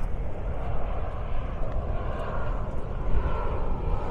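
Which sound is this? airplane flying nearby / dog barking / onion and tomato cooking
airplane flying nearby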